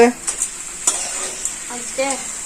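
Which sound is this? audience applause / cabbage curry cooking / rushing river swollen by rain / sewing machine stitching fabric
cabbage curry cooking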